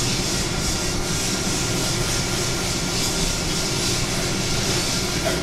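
T-bone steak searing in a hot skillet with butter, a dense, steady sizzle and crackle heard close and loud throughout, with no talk.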